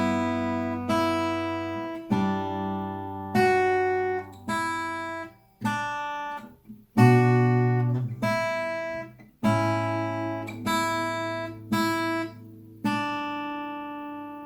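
Acoustic guitar plays a melody slowly, a sequence of about a dozen distinct plucked notes and chords, each ringing and decaying before the next, up close and alone.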